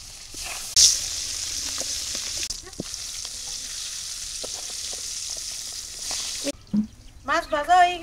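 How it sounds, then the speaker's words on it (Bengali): Fish coated in turmeric and salt fries in a hot wok, a steady loud sizzle running nearly the whole time, with a sharp spatter as the fish goes in and a voice speaking briefly near the end. "কড়াই গরম হয়ে গেছে, মাছ দিয়ে দিলাম"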